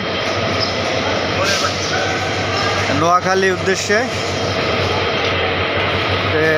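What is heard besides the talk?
train with engine at Kamalapur railway station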